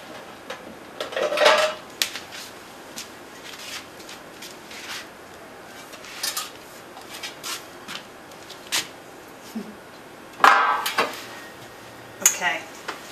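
A 9 by 9 inch square baking pan handled in a kitchen while making raw brownies, a series of close metallic clanks and taps, scattered and irregular, with two louder clatters.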